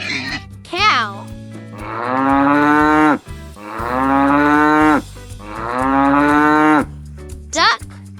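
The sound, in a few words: cow mooing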